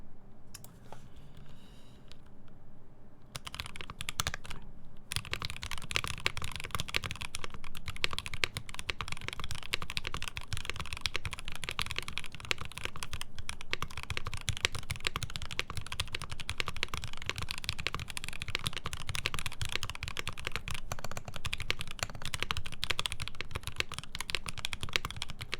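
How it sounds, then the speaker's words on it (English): A mechanical computer keyboard with linear switches clatters in fast, continuous typing for a long stretch, close and crisp, starting after a brief quieter moment. "It sounds very crispy. Sounds like linears. Yeah, sounds like a keyboard."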